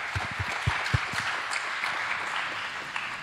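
Brief applause from a tech conference audience at a lightning-talks session: a few distinct claps up front, then a steady wash of clapping that carries on for a few seconds with no talking.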